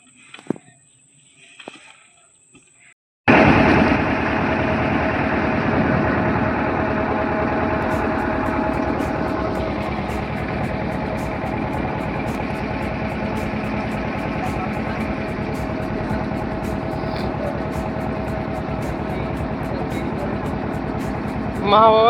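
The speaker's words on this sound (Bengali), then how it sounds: "আর ওই দূরে একজন বাইক নিয়ে আসছে।" A motorbike approaching from the distance on a rural riverside path, its engine a steady, moderately loud drone that holds for most of the clip after a short stretch of quiet speech.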